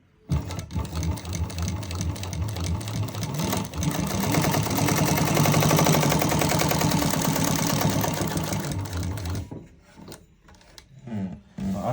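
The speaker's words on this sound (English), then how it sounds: "we are sewing on multi-levels of leather, and it's thick fabric, and still the machine is sewing with ease" A Juki DU-1541 heavy-duty sewing machine stitches through several layers of thick leather, running as a loud, steady, fast mechanical chatter for about nine seconds before stopping, leaving quieter handling noises.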